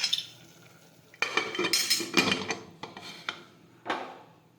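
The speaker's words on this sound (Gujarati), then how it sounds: "હવે આપણે કુકરનું ઢાંકણ છે તે બંધ કરી દઈશું." A metal pressure cooker lid is fitted and closed over ridge gourd (turiya) curry, making a few sharp clanks and clatters of metal on metal, close by, with quieter rattles between them.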